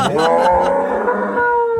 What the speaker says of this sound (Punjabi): ਵੇਖ ਸੱਤ ਗਾਵਾਂ ਤੇ ਆਹ ਬੱਚੇ ਖਾਲੇ